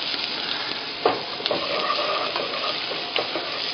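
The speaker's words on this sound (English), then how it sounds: "We're going to stir this up." Mirepoix vegetables with corn and yellow pepper sauté in a soup pot, a soft even sizzle broken by a few spoon knocks and stirring scrapes, near and without talk.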